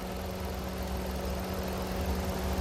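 A small 1.2-liter three-cylinder sedan engine idles with a faint, steady low hum and a constant mechanical drone, no revving and no talk over it.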